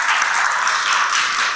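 Parents and students at a high school admissions information session applaud, a brief, steady burst of dense clapping filling the hall.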